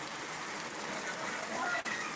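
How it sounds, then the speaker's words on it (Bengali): Rain falls hard during a storm, a steady, close hiss of drops on surfaces that runs without a break for the whole stretch, with one brief dip near the end. "এই বৃষ্টিতে ঝড়"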